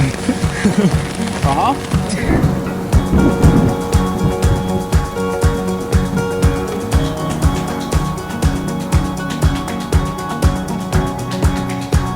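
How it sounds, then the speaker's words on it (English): Heavy rain pelts down steadily during a thunderstorm with lightning and hail on the Pacific Crest Trail, dense rhythmic drumming on a close surface, with a brief voice early on. "we sit in a lightning and hail and thunderstorm"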